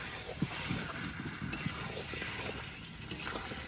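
Chicken meat seasoned with salt and turmeric browning slowly in a pan over a village kitchen fire. A steady, close sizzle runs throughout, with a couple of brief metallic clinks of a utensil and no talking.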